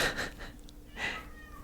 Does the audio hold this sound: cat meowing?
yes